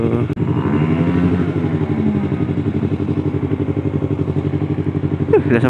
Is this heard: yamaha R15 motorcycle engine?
yes